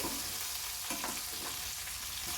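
Fish sizzles and crackles steadily in hot oil in an Andhra-style wet fish fry, with a dense, constant hiss and occasional louder pops heard close by, no talking.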